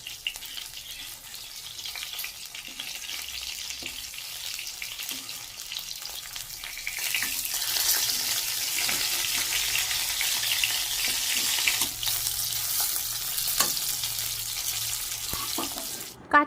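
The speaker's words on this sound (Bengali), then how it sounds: "আমি খুব সুন্দরভাবে মাছটাকে এপিট ওপিট উল্টিয়ে কড়া করে ভেজে নিচ্ছি" Pieces of catla fish fry in hot oil while being flipped side to side until crisp, a steady bubbling sizzle that swells louder midway, with occasional scrapes and clinks of turning.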